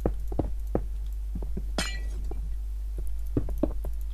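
A glass block breaking in Minecraft, a single bright shattering crash of glass set among soft repeated thuds and taps from the game, close and clear with no talking.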